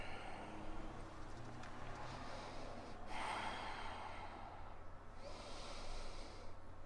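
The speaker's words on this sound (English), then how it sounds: "And take 3 more breaths." Soft, slow breaths are drawn in and let out through the nose during a yoga forward fold, quiet and close, with a couple of audible exhales and no speech.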